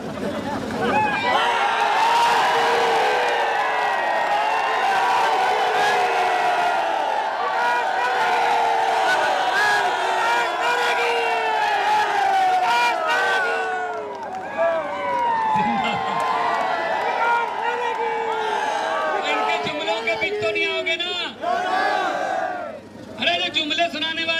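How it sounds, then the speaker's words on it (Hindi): A large political rally crowd in Maham, Haryana roars with sustained shouting and cheering, loud and dense throughout, with a brief dip near the end before the noise swells again. "चीखे मारनी है चीखे मार दो"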